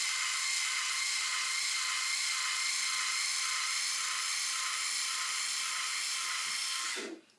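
An Instyler rotating hair styling iron runs on Brazilian curly hair with a steady, high motorized whir that holds unchanged for several seconds and then cuts off abruptly at the end.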